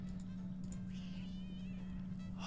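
Cats meow repeatedly in an online slot game bonus round, several short bright synthetic meows over a steady low electronic hum, fairly quiet.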